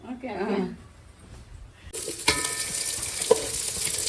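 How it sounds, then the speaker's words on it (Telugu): Thinly sliced onion hits a hot pan and bursts into a loud, steady sizzle after a quieter start with a voice, with a few clinks of a utensil against the pan as the frying continues. "ఒక ఉల్లిగడ్డ ఇలా సన్నగా ముక్కలు కట్ చేసుకుని ఇలా వేయించుకోవాలండి, కొంచెం బ్రౌన్ కలర్ లో వచ్చేంత వరకు"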